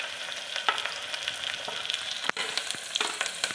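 Shallots, dried red chilies and curry leaves fry in hot oil for a tempering, a close, steady crackling sizzle with scattered pops and a brief stir of the pan, and no talking.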